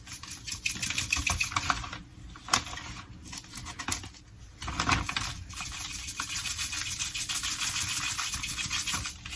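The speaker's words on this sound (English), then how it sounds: "I can't measure this really because it's a shaker" Rapid light rattling taps of pepper being shaken from a shaker over a bag of chicken tenders in a home kitchen, in quick bursts with short pauses between them.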